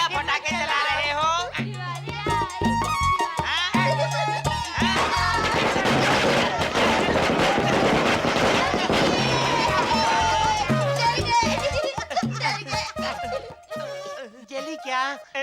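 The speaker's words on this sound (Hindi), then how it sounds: "ये क्या पटाखे चला रहे हो?" Firecrackers burst in a dense, crackling run of sharp pops that peaks through the middle, with people talking before and after the barrage.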